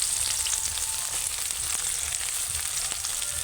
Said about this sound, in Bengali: একই তেলে আমি দিয়ে দিচ্ছি দুটো শুকনো লঙ্কা, আর এখানে দিয়ে দিচ্ছি পেঁয়াজ কাটা